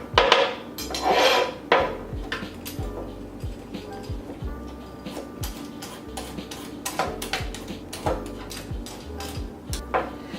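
A kitchen knife slices the leafy top off a pale celery root on a cutting board, giving a few crisp chopping knocks and scrapes with board clatter, close and moderately loud.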